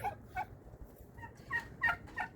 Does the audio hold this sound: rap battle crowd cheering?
no